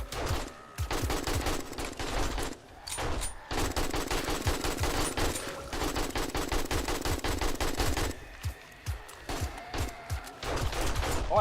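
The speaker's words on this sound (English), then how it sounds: "I forgot it takes stamina to shoot the gun" An AK rifle fires in 7 Days to Die in long rapid automatic bursts, loud and close. Brief pauses break up the sustained stuttering gunfire.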